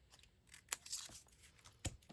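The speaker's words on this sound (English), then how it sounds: "I'll take my scissors and just finish this cut" Scissors close through scrapbook paper with two sharp snips, the second at the very end, and some faint rustling between them. All of it is quiet and close.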